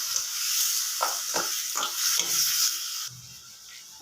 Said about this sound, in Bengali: এখন আমি পেঁয়াজটা দিয়ে দিব, পেঁয়াজটা ভালো করে নাড়া দিয়ে দিব।